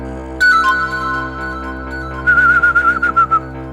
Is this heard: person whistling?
yes